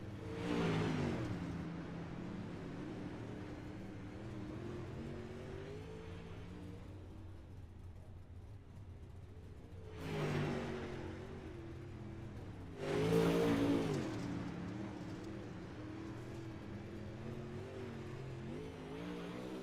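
Dirt race cars in a racing video game rev and accelerate in three bursts separated by quieter idling rumble. The middle and final bursts come close together, and the last is the loudest.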